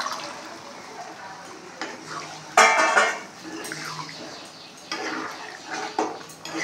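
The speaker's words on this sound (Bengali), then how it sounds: "ভালো করে নেড়ে নেব।" Boiled chickpeas are stirred in a pan, with intermittent scraping and clinking of a spoon against metal, a few louder sizzling, sloshing bursts, and a quiet kitchen background.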